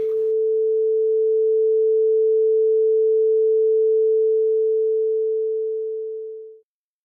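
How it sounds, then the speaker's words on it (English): A pure 440 Hz sine tone and its inverted copy play together as a single steady electronic tone that holds at even loudness, then fades away to silence near the end. "back to the 440 hertz sine wave, 440 hertz inverted sine wave"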